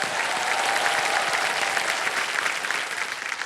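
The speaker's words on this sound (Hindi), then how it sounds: "एक बार जोरदार तालियां बज जाएं इनके लिए।" A studio audience on a quiz game show set bursts into sustained, dense applause that stays loud, then gradually thins toward the end, with no speech over it.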